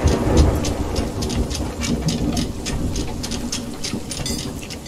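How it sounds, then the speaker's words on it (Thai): Stormy sea in the Sea of Thieves video game: steady heavy rain hisses throughout with low rumbling thunder rolling underneath, loud and continuous with no talk. "ออกทะเลตอนพายุมาโคตรตึง"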